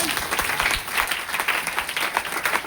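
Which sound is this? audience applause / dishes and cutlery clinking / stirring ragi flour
audience applause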